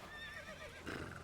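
A horse neighs in the video game The Witcher 3, a short, quavering whinny that rises and falls for about a second, moderately close, followed by a brief rustle and no speech.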